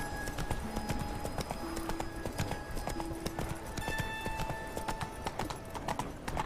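A horse gallops in The Witcher 3: Wild Hunt, a quick steady clip-clop of hooves over game music with sustained tones, with no talking.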